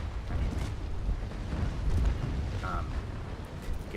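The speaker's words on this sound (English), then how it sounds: "You get to fire broadsides or even just 1 cannon at a time" Sailing ship cannon fire in the naval battle game Naval Action, deep booming blasts and rumbling under a continuous low battle din, with a voice talking over it.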